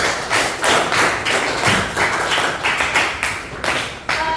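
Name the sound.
audience applause in a classroom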